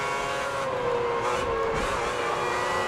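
Open-wheel race cars from F1 2010 roar past on the Britain circuit, a steady loud engine drone with a rising whine as one car overtakes another, continuous and close throughout.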